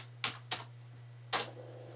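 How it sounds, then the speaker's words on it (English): Three sharp key presses, two close together then one after a pause, typing the dir command on a Z80-based computer keyboard. The faint clicks sit over a steady low electrical hum, with no talking. "Now, if we type a directory command"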